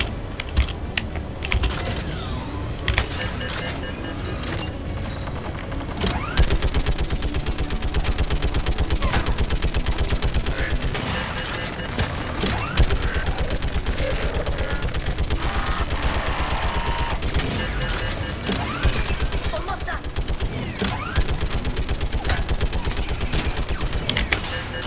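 Turret gunfire in Mass Effect 3: a dense, continuous rapid rattle of automatic fire sustained throughout, loud and close, with keyboard-like clicking mixed in.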